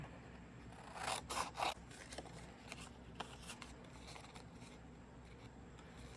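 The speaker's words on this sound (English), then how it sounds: "Alright, I'm going to cut these out." Scissors snip through heat-embossed paper tags in a quiet room, with a quick burst of close, crisp cuts near the start followed by softer, scattered rasps and paper rustling.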